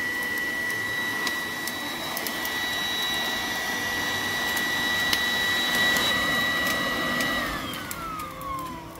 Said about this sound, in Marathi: हा कोळसा आम्ही विकत आणलाय आणि आग लावतोय तो आता व्हॅक्यूम क्लीनरने।